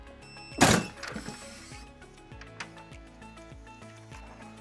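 A heat press platen slides into place with one loud clunk near the start, followed by a few fainter knocks and clicks over steady background music.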